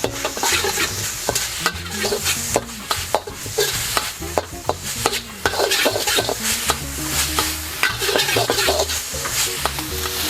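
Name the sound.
pickled mustard greens stir-frying in pan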